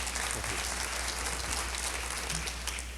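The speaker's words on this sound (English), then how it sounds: "Thank you very much for the applause in advance." Audience applause at a 1991 management association conference in New Orleans, a steady, moderately loud wash of clapping heard throughout with low background hum.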